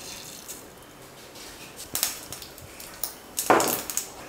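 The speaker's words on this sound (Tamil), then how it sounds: "எண்ணெய் கொஞ்சம் காஞ்சதுக்கப்புறமா கடுகு சேர்த்துக்கிறேன்." Mustard seeds tempering in hot oil in a home kitchen while chutney for idli and dosa is made. Sparse, sharp crackles and pops rise over a low steady hiss, growing more frequent toward the end.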